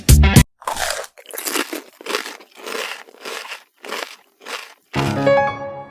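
Someone bites and chews a homemade birthday cake up close, with a sharp initial bite followed by a steady run of loud, crunchy chewing bursts and a final crinkle.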